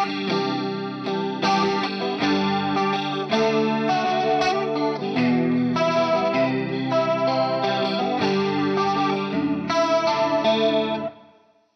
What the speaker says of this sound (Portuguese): Um chorus bem profundo, porém lento.